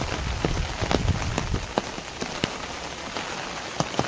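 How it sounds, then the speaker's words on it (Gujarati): Steady rain falls at Songadh hill fort, a dense, even hiss of drops on hard surfaces with scattered louder, closer drips popping through at irregular moments, no voices heard. "વરસાદ ચાલુ છે દોસ્તો"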